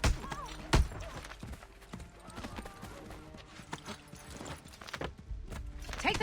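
A horse's hooves clip-clop in the Assassin's Creed 3 video game, a steady walking rhythm of sharp knocks under game ambience and occasional voices.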